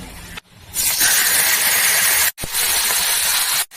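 Rohu fish fry in hot oil with a loud, bright hiss that runs continuously, cut by two brief drops to near silence before resuming just as strong, close up with no talk.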